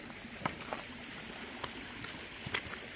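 A forest stream on a small mountain trail flows in a steady, soft rush, with a few brief sharp chirps breaking through the constant water noise.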